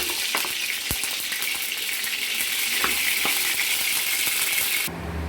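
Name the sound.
mustard oil sizzling in a hot kadai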